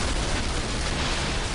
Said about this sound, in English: here comes this explosion.